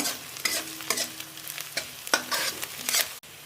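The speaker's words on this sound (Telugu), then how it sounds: "అల్లం వెల్లుల్లి ముద్ద అయితే వేసుకుంటున్నాము ఇది కూడా పచ్చివాసన పోయేంత వరకు బాగా కలుపుకుంటున్నాము" Ginger garlic paste is stirred while frying in a pan, with a soft continuous sizzle broken by a series of sharp scraping strokes of the spoon, close and fairly loud, ending in a brief cutoff.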